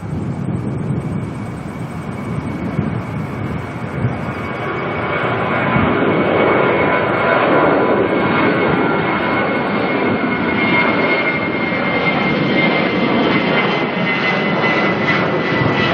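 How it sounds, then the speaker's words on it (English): An airliner, likely an Air New Zealand Boeing 787-9 arriving from Sydney, approaches to land at Auckland Airport, its steady jet roar swelling and holding loud and broad throughout with no voices. "we've just got eyes now on NZ104 coming in from Sydney"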